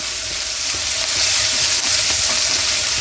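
Cashews fry in hot oil in a pan for jeera rice, giving a steady close sizzle with faint crackles and stirring scrapes throughout, and no talking.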